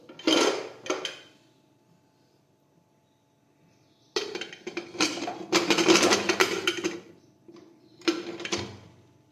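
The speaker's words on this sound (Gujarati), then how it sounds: "હવે આપણે કુકરનું ઢાંકણ છે તે બંધ કરી દઈશું." Metal lid of a pressure cooker being set on and locked while brinjal-potato curry cooks, giving a few loud close clanks and scrapes in separate bursts with quiet gaps between them.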